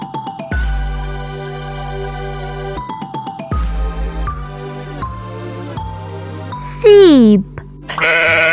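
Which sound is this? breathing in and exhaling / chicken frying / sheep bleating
sheep bleating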